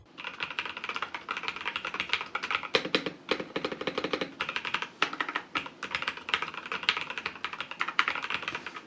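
Steady typing on a Hator Rockfall 2 TKL mechanical keyboard with a Poron switch pad, rapid clicky keystrokes in quick bursts with brief pauses, close and alone.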